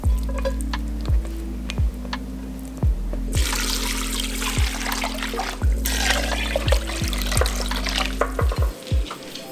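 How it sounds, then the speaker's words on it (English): Water is poured into a big pot for a spicy Korean beef and vegetable stew, a steady close trickle and splash marked by sharp clinks and taps against the pot. "Now let's add all of this into the pot and add in the water."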